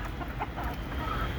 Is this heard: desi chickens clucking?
yes